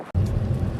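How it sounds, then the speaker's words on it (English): Rain and wind outdoors near a hotel make a steady low rumbling wash of wind noise with soft patter, continuous and close, after a brief dropout at the start. "It's raining and windy."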